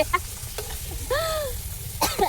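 Potatoes fry in hot oil in an outdoor village kitchen, a soft steady sizzle broken by scraping stirs and a couple of short clatters.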